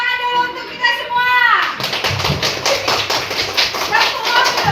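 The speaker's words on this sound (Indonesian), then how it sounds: "Oke, tepuk tangan dulu untuk kita semua." A group of children clapping hands in a classroom, a rapid run of sharp claps starting after a brief stretch of voices, with children talking and calling over them.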